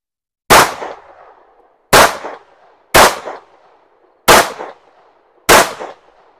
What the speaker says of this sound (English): We're going to have you shoot a couple rounds downrange and see what you think about it.